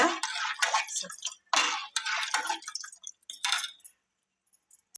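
Water poured by the cup into a pot of sambar, several splashing pours of a few seconds each with short pauses between, close and fairly loud, ending in near silence.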